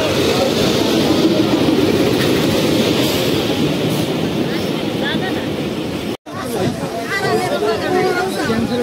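A Bhatiapara Express train at a station, a loud rumbling hum under dense crowd chatter, with a brief cut before the busy noise carries on.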